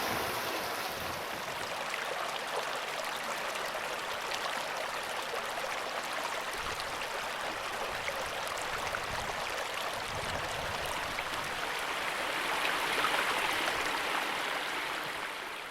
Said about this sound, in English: When you live along a river like this